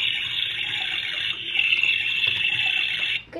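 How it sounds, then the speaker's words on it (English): Tap water running into a bathroom sink, a steady bright hiss and splash that holds for about three seconds before stopping. "Here, turn the faucet on."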